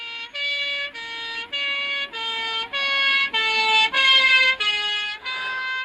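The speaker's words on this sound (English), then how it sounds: "And that was the sound of the police car." British police car siren sounding a steady two-tone hi-lo alternation, about ten even notes in a loud, continuous sequence with no voices.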